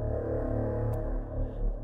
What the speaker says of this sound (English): I play this when my characters make a grim discovery in Call of Cthulhu